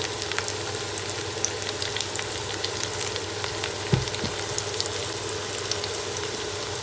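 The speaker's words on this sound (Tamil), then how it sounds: "நல்லா கொஞ்சம் கோல்டன் ப்ரௌன் வரும் வரைக்கும் வதங்கி வச்சுட்டு இதோட வெங்காயத்தை போடணும்" Onions sautéing in hot oil in a pan, a continuous close sizzle with occasional stirring scrapes and a brief clunk, no talk.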